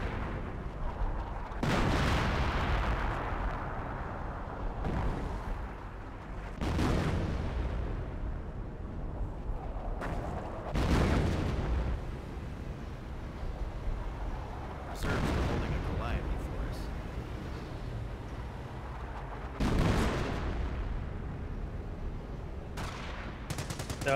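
M2 mortar barrage and gunfire in the video game Company of Heroes: repeated loud booming explosions every few seconds over continuous rumbling battle noise and gunfire, with someone talking throughout.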